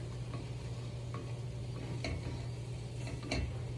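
A zucchini frittata cooks in a pan with a soft, steady sizzle, broken by a few faint scraping clicks of a spatula moving it around. No one speaks.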